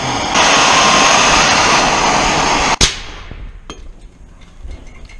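A radiator hose under air pressure hisses loudly and steadily for a few seconds, then bursts with a sharp, sudden crack. Afterward the air pressure is gone and only faint rustling and clatter remain.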